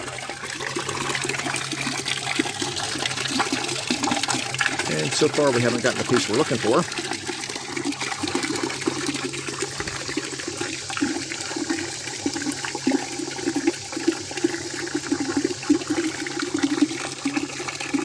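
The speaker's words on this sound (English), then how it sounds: "we can see up underneath here how the water is coming out of the water pump intake up there" Cooling water runs steadily out of an engine's water pump intake during a flush to clear an internal blockage, a continuous splashing and trickling flow with a brief louder gush, heard under someone talking.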